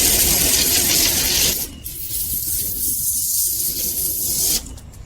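ACTIVE 2.0 pressure washer spraying through a 15-metre hose: a loud, close hiss of water that drops to a softer spatter midway, then briefly returns.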